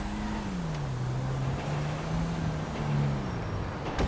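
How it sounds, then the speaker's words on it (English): Truck driving in Grand Theft Auto V: a steady engine drone with a low hum that slowly shifts pitch as it cruises, continuous and fairly close, with no talking. "We leave my car here, take the truck."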